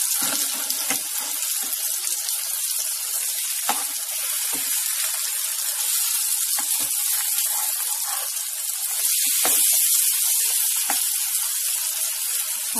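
Egg and potato breakfast frying in a pan, a steady hissing sizzle with occasional crackles and pops, close and continuous without talk.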